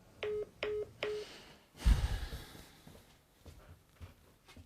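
Three short, evenly spaced telephone keypad tones beep as a number is dialed, followed by a brief rustling burst and faint background noise.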